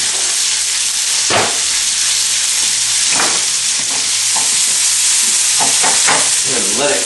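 Leftover steak, fries, rice and onions sizzle together on a hot cooking surface, a loud, continuous hiss broken by several scraping stir strokes near the end.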